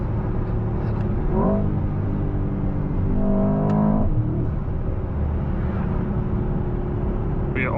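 A 2024 Mercedes-AMG S63 sedan with an 800 hp V8 engine accelerates, its deep engine note rising in pitch through a couple of revving pulls, heard steadily and fairly close throughout.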